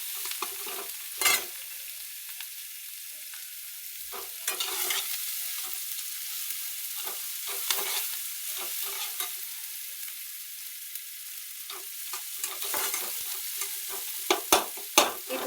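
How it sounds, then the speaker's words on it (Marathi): Tomatoes are added to a frying pan and stirred, giving a constant sizzle broken by repeated scraping and clattering stirs of the spoon against the pan, with no talk. "टमाटे पण टाकते कारण ते एकदम एक जीव झाला पाहिजे ना."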